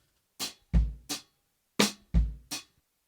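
Six sharp drum hits in two matching groups of three, snare cracks each followed by deep bass drum thumps, played alone and fairly close.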